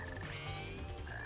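A green frog in the Sonic Heroes video game croaks in a steady, close, continuous burst with no talking over it.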